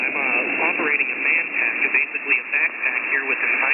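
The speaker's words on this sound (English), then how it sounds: "You're going to hear a lot of, in the background, a lot of received static noise" Received static hiss on a portable all-band manpack radio with an antenna wire strung into a tree, carrying a band-limited, warbling voice under constant noise.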